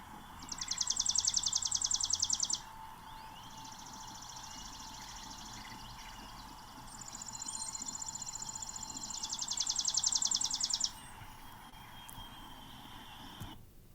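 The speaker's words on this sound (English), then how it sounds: "It's their chipping sound that they make." Chipping sparrows give rapid dry chipping trills outdoors among trees, in two long bursts of fast repeated chips at moderate distance over a steady background, with no talking.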